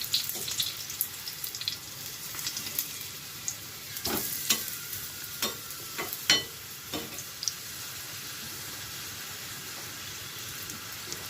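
Food sizzling steadily in a frying pan, with a few sharp clinks and scrapes of a utensil flipping the pieces partway through; no talking.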